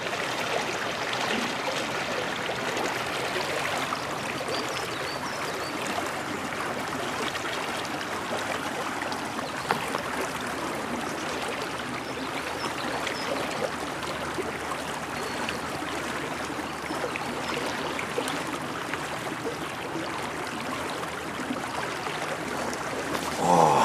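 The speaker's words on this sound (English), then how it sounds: "I've never seen so much water go through this pipe." A large volume of water rushes through a pipe at a fishing spot, producing a steady, loud, broadband roar that holds constant for the whole stretch with no talk over it.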